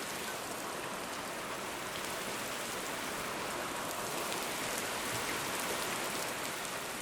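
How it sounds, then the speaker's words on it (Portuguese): Heavy rainstorm pouring down outside, a steady dense hiss of rain on surfaces that holds loud and even throughout with no voices. "o som de um pesado temporal que começou a cair do lado de fora"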